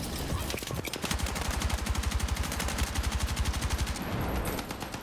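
Rapid automatic gunfire from a gun in a PC shooter video game, a dense continuous stream of sharp shots lasting nearly five seconds, loud and close with no talking.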